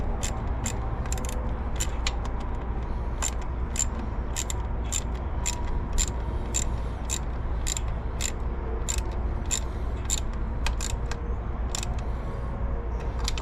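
Short ratcheting clicks while thermostat housing bolts are snugged down on a Ford Mustang, a steady series of quick, close metallic ticks repeating at an even pace over a low continuous background hum.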